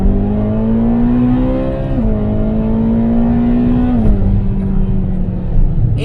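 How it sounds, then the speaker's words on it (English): A loud, close 2013 Ferrari California flat-plane crank engine revs hard toward 8,000 RPM, its pitch climbing steadily with two sudden drops as it shifts up through the gears. "Being able to rev that all the way up and just hearing the awesome flat plane crank motor"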